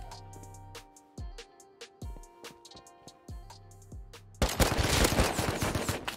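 AK rifle fire in the Rust survival game: a few spaced sharp shots with ringing tails, then a sustained loud burst of rapid automatic fire at the end.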